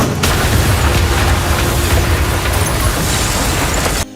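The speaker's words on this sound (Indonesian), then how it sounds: "sebuah bom yang terpasang meledak dan hampir membunuh Johnson" A planted bomb blows up in a film action scene, a loud, sustained roaring blast that fills the whole moment and then cuts off abruptly.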